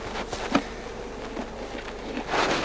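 Honey bees buzzing around a hive just after a transfer from a top bar nuc, a steady, close swarm hum with individual bees droning past.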